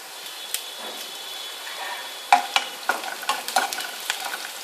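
Onions and green chilies fry in a pan for tota kura pulusu, a soft steady sizzle at first, then a run of sharp spatula scrapes and taps against the pan, close and with no voices.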